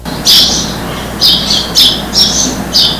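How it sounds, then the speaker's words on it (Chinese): Loud, harsh bird squawks repeat close by in the early morning in the mountains of Sanxing, Yilan, Taiwan, about five calls spaced irregularly over a steady outdoor background hiss. "一大早，山岚美景，虫鸣鸟叫"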